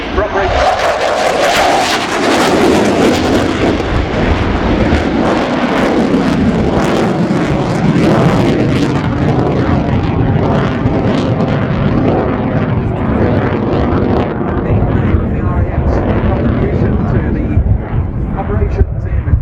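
Royal Air Force Typhoon FGR.4 fighter jet performing a flying display at an air show, a loud continuous roar of jet engine noise sustained throughout, with a voice speaking over the top.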